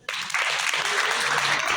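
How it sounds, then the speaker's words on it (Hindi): Students at a career guidance workshop break into loud clapping on cue, a sudden dense burst that starts sharply and holds strong to the end. "अपने एक बार जोर से ताली दें।"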